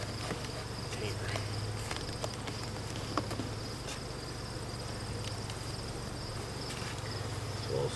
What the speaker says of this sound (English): So I'll scoop a few bees.